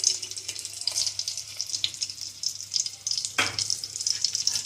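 Eggs frying in a pan with red chilli powder, coriander powder and salt, a steady close sizzle and hiss with a brief stir partway through.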